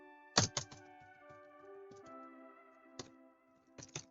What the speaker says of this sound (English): It doesn't pick up my, tapping on my keyboard.